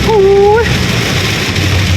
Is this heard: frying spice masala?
no